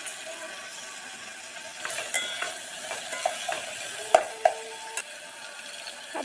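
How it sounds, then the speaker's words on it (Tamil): Chopped onions sauté in oil with salt for prawn biryani, a soft, quiet sizzle under close, sharp spatula clicks and scrapes against the pan that grow busier toward the end. "ஆனியன் கொஞ்சம் நல்லா பொண்ணு இடம் வர வரைக்கும் வதக்கிக்கலாம்"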